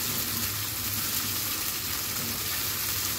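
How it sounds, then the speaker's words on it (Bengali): Chicken pieces frying in oil in a pan for dragon noodles, a steady, dense sizzle that holds evenly throughout, close and continuous with no talking. "একটু ভেজে নিব"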